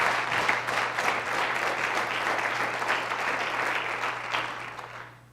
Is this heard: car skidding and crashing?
no